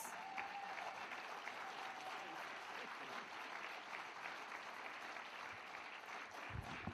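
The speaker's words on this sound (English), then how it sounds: "give him a nice round of applause" A standing audience at a Contractor Development Roadshow in Kimberley gives the Deputy Minister a sustained round of applause, an even, unbroken crackle of many hands from a little distance.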